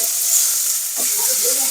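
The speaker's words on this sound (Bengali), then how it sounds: "আলু আর পেঁয়াজটা একটু লাল লাল করে ভেজে নিয়েছি" Potatoes and onions frying in oil in a pan for Bangladeshi bhola fish curry, a steady close bright sizzle with a faint stirring scrape partway through.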